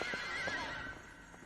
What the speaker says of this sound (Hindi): इस घोड़े को क्या हो इसे गया?